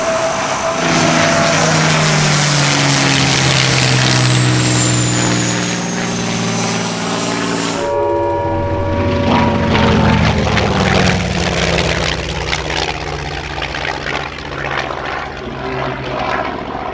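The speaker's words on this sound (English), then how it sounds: "The best fighter to come out of World War II on the German side, the Focke Wulf 190," A Focke-Wulf 190 World War II fighter flies past at an airshow, its loud piston engine droning and roaring with a shifting pitch as it passes, then fading into a rough, wind-filled rumble.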